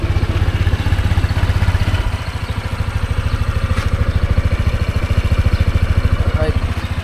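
A 2025 Honda Click 160 scooter idles close by with a steady, rapid pulsing thrum that holds loud and even throughout.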